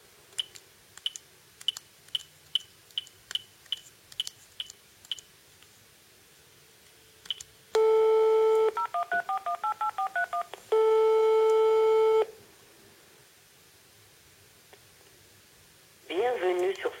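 A phone call to an interactive voice server opens with a quick series of clear DTMF dialing beeps, then long ringback tone bursts with a stuttered segment, followed by the start of a recorded voice.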